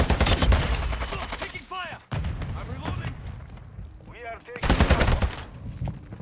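Video game gunfire erupts in dense automatic bursts and heavy booms, broken by brief pauses, with radio-style voices talking over the shooting.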